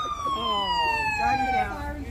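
Passing emergency vehicle sirens at a vigil in Washington, DC wail in falling, sweeping tones, loud and close for a couple of seconds, with crowd noise beneath.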